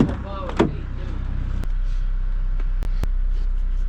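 A Ford F-350 pickup door opens with a creak and a brief voice, then thumps and clunks as it is worked, with a couple of sharp knocks later over a steady low rumble.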